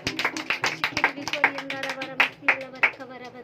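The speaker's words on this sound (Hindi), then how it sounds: "जोरदार ताली बजाकर धन्यवाद करेंगे" A church congregation at a Christian prayer meeting claps in a quick, steady rhythm, the sharp claps landing over music and singing voices.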